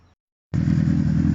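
A motorcycle engine bursts in loud and close after a brief quiet gap, then holds a steady, rumbling drone while riding off on a road toward Old Vlachata on Kefalonia.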